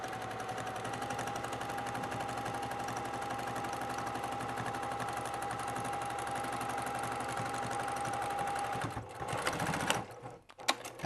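A sewing machine runs steadily for about nine seconds, stitching the seam of a drawstring bag, then slows and stops with a few short mechanical clicks near the end.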